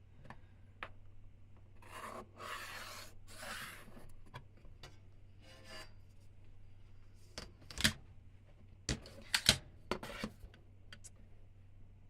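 A 4H pencil drawn along a ruler on paper while darkening lines in a technical orthographic drawing, giving faint, soft scraping strokes followed by a few quiet clicks and taps.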